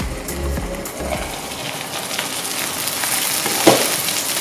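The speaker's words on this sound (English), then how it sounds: "Remove the lid and let it continue to sizzle until all the liquid has evaporated." Homemade dumplings sizzle and fry in a pan as the cooking liquid boils off, a steady close crackle with a few clinks of a utensil or lid early on and one sharp tap near the end.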